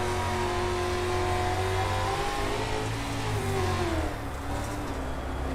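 Dirt-track race cars from an iRacing online series at Lanier Raceway Dirt, engines droning loud and steady as they circle the oval on the last lap, pitch rising and falling with throttle.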